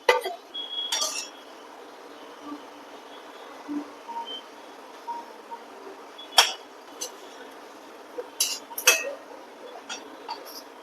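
A metal utensil clinks against a pan while lifting fried wheat-flour modaks out of hot oil, with scattered light taps and scrapes close by over a quiet background.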